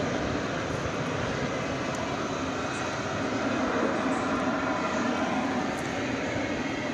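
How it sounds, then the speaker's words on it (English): An airplane roars steadily near the runway at DFW airport at night, a loud, continuous engine rumble and hiss holding level for several seconds with no talk. "the wonderful plane noise."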